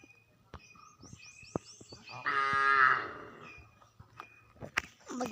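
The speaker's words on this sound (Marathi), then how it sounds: "बघितलं असतीलच वासरू" A calf gives one drawn-out moo of almost a second, with faint bird chirps and scattered sharp clicks and knocks before and after.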